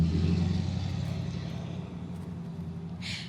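Low rumbling traffic noise fills the background as a car passes along a street, fading slightly, with a faint hiss near the end.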